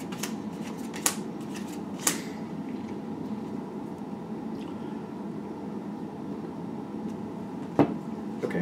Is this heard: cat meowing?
no